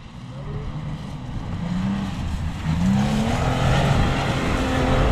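A Toyota Prado 4x4 engine drones and strains as it climbs a steep, roughly 40-degree offroad slope at an extreme 4x4 event, growing louder and rising in pitch as it revs, with a few faint voices in the background.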